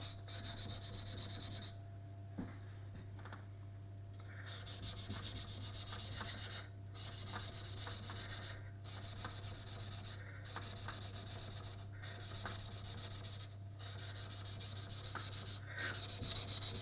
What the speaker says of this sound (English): as I move into the blade road, we're building this nice slurry on the stone